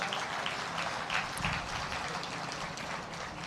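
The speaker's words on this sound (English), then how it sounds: "let's give them a big round of applause" Sustained applause from a crowd at an Armenian American Museum groundbreaking ceremony, dense and steady clapping filling the space at moderate volume, with no talk over it.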